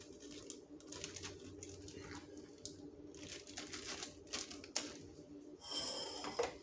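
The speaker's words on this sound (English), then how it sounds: "Then we're going to zip it up." A plastic zip-top bag holding freshly made ravioli dough is pressed shut, giving a close, steady crinkling and rustling of plastic with sharper crackles near the end.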